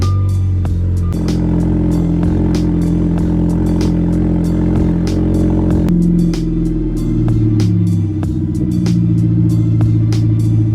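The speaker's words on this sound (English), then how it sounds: "let me go ahead and get this quick cold start in" Turbocharged Audi A4/A5 engine after a cold start, a loud steady rumbling idle with mechanical clatter that shifts pitch partway through, close by with no talking.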